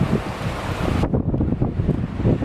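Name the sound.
Kennebecasis River water lapping against the rocks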